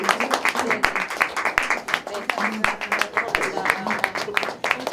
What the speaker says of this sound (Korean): 큰 박수로 축하해 주세요